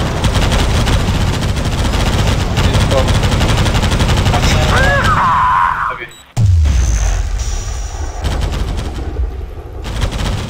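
Airstrike explosions in a shooter video game, a loud sustained barrage of blasts and rapid gunfire that cuts out abruptly, then a deep boom and further scattered shots, with voices talking over it.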